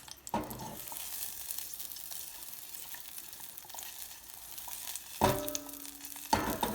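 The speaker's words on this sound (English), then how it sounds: "I'm going to add some ghee" Ghee sizzles in a hot pan for murgh masala, a soft steady crackle punctuated by a few sharper bursts and clinks as the pan is handled, with no talking.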